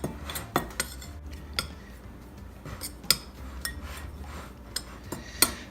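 Utensil scraping and clinking against a bowl while keto wrap batter is mixed, with irregular sharp taps and stirring scrapes at moderate distance and no voices.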